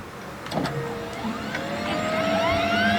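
A computer in the Streamer Life Simulator game starts up noisily, with a few clunks, then a whirring hum that rises in pitch as it spins up, close and steady.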